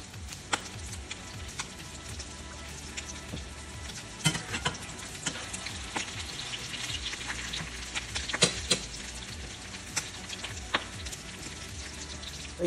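Seafood cakes fry in oil in a pan with a steady, faint sizzle dotted with scattered crackles and small pops, heard close and alone with no voices.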